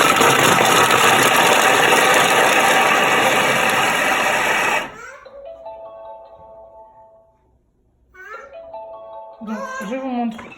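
A Thermomix chops washed carrots for five seconds at speed 5, a loud dense whirring roar that cuts off abruptly, followed by quiet and then a voice speaking.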